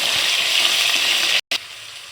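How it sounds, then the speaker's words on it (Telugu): Ginger paste frying in hot oil, a loud dense continuous sizzle and crackle that cuts out abruptly for a moment before resuming slightly quieter. "అల్లం పేస్ట్ కూడా వేయించుకుందాం."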